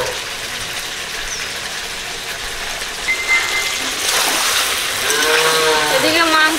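A small amount of water is poured into braised Bengali meat curry (kosha mangsho) in a pan, giving a rising, bubbling splash and hiss that builds over the second half, with faint talk underneath.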